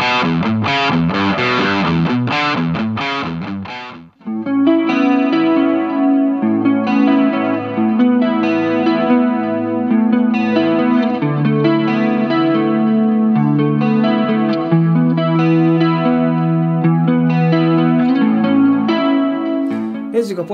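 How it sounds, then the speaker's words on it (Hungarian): Electric guitar played through a Tech 21 OMG Richie Kotzen signature overdrive and booster pedal, loud and saturated: a burst of fast strummed chords, then sustained distorted single-note lines and chords ringing continuously. "ez pedig itt a kezemben a Tech21 OMG Ritchie Kotzen Signature Overdrive és Booster pedál"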